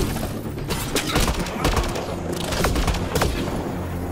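Gunfire in the video game Mass Effect: Andromeda: a dense run of sharp shots and booms over a steady loud backdrop, with no pauses between bursts.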